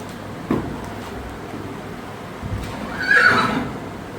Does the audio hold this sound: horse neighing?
yes